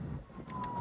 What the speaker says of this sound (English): oh, there goes an ambulance